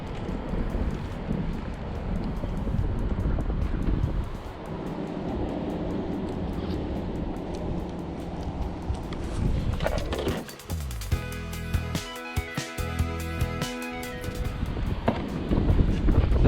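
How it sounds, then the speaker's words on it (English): Strong wind buffets the microphone at a park fishing spot in Walsingham Park, Seminole, Florida, a steady loud rumbling roar throughout, with gustier bursts and some clatter toward the end. "That wind is gonna be rough trying to fish with."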